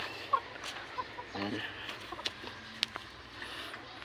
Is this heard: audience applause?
no